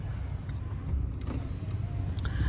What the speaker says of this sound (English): Automatic up down for your driver and passenger window